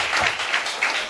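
A church congregation at a Calvary Church service claps together in a short, brisk burst of applause.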